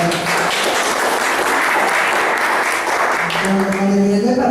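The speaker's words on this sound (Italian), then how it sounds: "fare un applauso al nostro amico Giovanni Michele" Audience applause for Giovanni Michele at a book event in a Mondadori bookshop, a steady dense wash of clapping throughout, with voices and murmuring rising underneath toward the end.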